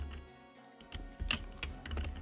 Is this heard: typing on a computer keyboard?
yes